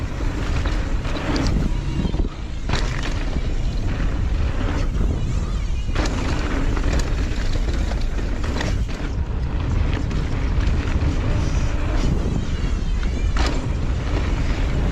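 A Transition Patrol mountain bike fitted with a coil shock and Bomber CR fork riding a trail with braking bumps, heavy wind rush and rattling, creaking clatter from the bike, loud and continuous, with no talk.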